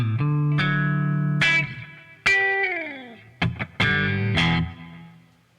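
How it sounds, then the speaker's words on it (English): An electric guitar played through a Line 6 Helix running a Mesa Cali amp model and a 4x12 cabinet gives loud, overdriven sustained chords and bends with slides, several ringing notes decaying and restruck, heard alone without talking. "I'm just using my Helix, and I'm using a Mesa Cali amp model with a 412 cab."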